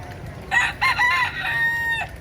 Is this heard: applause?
no